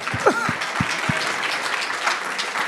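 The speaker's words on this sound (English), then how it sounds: "clap for them, absolutely" An audience at a Juneteenth freedom summit on a college campus breaks into sustained applause, a dense even wash of many hands clapping with a few sharper nearby claps standing out.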